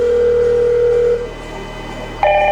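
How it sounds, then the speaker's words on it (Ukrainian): A Hikvision IP intercom (DS-KH6110-WE1 / DS-KH6000-E1) sounds its incoming call tone, a loud steady electronic tone that drops away briefly and then returns at a different pitch, with no talking. "Виклик приходить на наші домофони, а також безпосередньо на смартфон."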